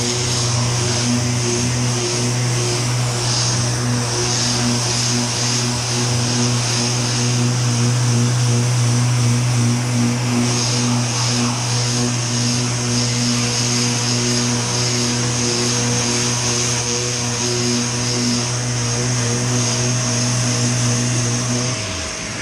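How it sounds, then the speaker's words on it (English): A power sander running steadily on a Toyota Supra bonnet to take off cheap paint, giving a loud continuous whirring drone with a constant pitch that lasts the whole stretch without a break. "Get this sanded down"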